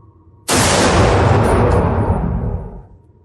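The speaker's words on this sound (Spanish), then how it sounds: "el restallido del disparo resonó como un rayo en la inmensidad de la mansión" A single sharp, loud revolver shot bursts out after a short quiet, followed by a long booming echo that slowly fades.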